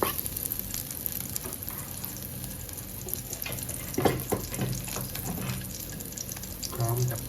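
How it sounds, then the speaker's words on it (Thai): Garlic stir-frying in a little oil for Thai-style spaghetti with clams, a soft crackling sizzle with occasional stirring clatter, fairly faint, alongside some watery background noise. "ผมใส่น้ำมันลงไปนะครับ ไม่ต้องใส่เยอะนะครับ แล้วใส่กระเทียมลงไปผัดครับ"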